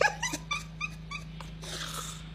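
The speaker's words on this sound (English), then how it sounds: "That's my dog" A dog close by gives a rapid series of high whimpers and yips mixed with a low growl, several short bursts over a couple of seconds, with a steady low hum underneath.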